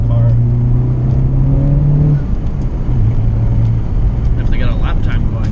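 A 2019 Honda Civic Type R engine droning and revving under load while driven, loud and close from inside the cabin, its pitch rising then easing before a second push, with faint voices underneath.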